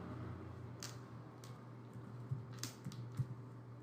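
Light, irregular keystrokes on a computer keyboard while typing in MS Word, a handful of soft clicks over a steady low electrical hum, faint and close.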